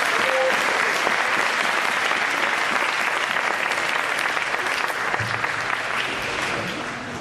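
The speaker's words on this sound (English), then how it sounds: "give these guys another round of applause" Dense, steady applause fills a hall at a high school winter and spring sports awards ceremony, loud and continuous, tapering slightly at the end with no talking over it.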